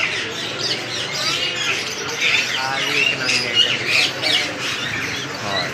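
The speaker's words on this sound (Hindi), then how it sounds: "और ये ऊपर रेड पैरट।" Red parrots at a bird market in Faisalabad give loud, rasping squawks in quick repeated bursts, close and dense, with other birds chirping underneath.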